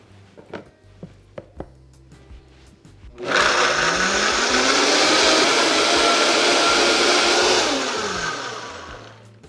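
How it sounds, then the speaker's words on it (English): Seasoning blended with a splash of water into a smooth marinade for turkey wings: after a few light clicks and taps, a kitchen blender whirs up loudly and runs steadily for about four seconds before winding down. "And let's blend away."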